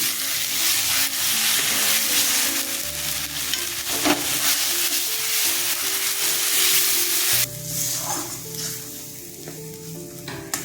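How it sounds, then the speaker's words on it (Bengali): Chicken and a chilli-heavy spice paste fry and sizzle steadily in a pan for a Bengali chicken and potato curry, a loud continuous crackle with occasional stirring scrapes and no talk. "মশলাটা কষানো হয়ে গেছে।"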